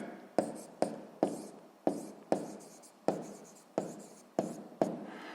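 Pen or chalk writing out a sixth-grade math exercise, a series of about nine sharp strokes in an irregular rhythm, each starting with a crisp scratch and trailing off, close and alone.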